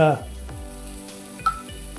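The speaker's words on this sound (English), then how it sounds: "Keep stirring." A spoon stirs Shahi white gravy base for vegetable korma in a hot pan, with a soft steady sizzle and faint scraping knocks at regular intervals, close and alone.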